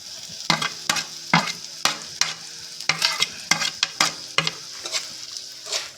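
Mango paste is stirred into a crab and tamarind curry in a pan, with repeated scraping strokes of a spoon against the metal over a soft sizzle, close and fairly quiet.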